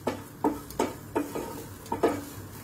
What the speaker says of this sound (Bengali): সমস্ত মশলাগুলোকে মিশিয়ে নিচ্ছি